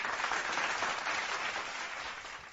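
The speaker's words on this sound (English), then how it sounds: "Give them applause, man." Sustained crowd applause celebrating the Denver Nuggets reaching their first NBA Finals, a dense, steady wash of clapping heard alone at moderate level for the whole stretch, easing slightly toward the end.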